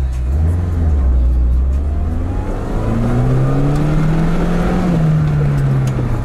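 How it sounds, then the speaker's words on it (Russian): A loud Lada Niva engine droning and gradually rising in pitch as the vehicle pulls forward off-road with the differential locked, heard up close inside the cabin. "Посмотрите, при блокировке, как автомобиль себя будет тянуть."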